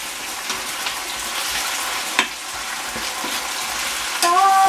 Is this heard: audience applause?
no